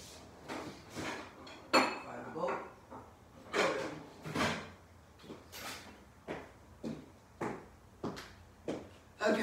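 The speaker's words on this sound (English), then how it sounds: "I'm going to show you how to crack an Easter egg into a bowl." A chunky chocolate Kit Kat Easter egg being cracked into a bowl, a steady run of sharp snapping and clinking knocks against the bowl, close and fairly loud, repeating irregularly with no talk.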